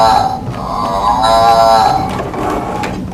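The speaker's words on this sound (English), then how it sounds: "That's right, the mooing noise." A cow named Bessie lets out a long, loud moo on a farm. The call swells and falls over a couple of seconds amid light background noise.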